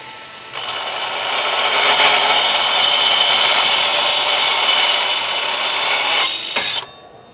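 A Milwaukee M18 FUEL cordless pipe cutter slices through 1/2" to 1" steel pipe, a steady, loud, high-pitched whirring grind that holds for about six seconds and then winds down abruptly.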